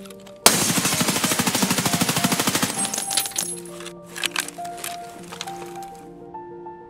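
M4 rifle fired in the video game Escape from Tarkov: a loud, rapid automatic burst of about two seconds, followed by scattered metallic clinks and tinkling as the shooting stops.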